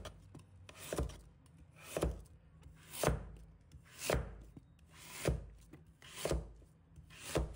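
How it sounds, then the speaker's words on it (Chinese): A knife slices taro into thin, slightly thick pieces on a cutting board, seven crisp, evenly spaced chops about a second apart, close and clear with no talking. "然后将芋头切成薄片，稍微厚一点"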